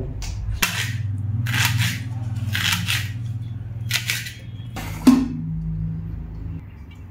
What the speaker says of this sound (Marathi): आता कांदा कापून घेतो पहिला.